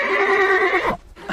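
A horse neighs loudly and close, a long quavering whinny with strong harmonics that breaks off near the end, followed by a brief pause and a soft noise.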